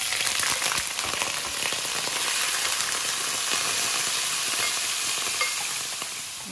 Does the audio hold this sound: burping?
no